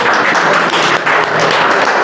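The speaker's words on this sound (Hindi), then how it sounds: "जोरदार ताली होनी चाहिए मैडम के लिए" Audience applause at the opening ceremony of a fitness academy in Mokama forms a steady, dense clapping for about two seconds, loud and close.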